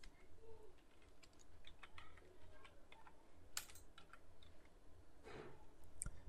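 Typing on a computer keyboard while entering a formula in a spreadsheet: quiet, irregular clicks and taps of keys, close and soft, with no talk.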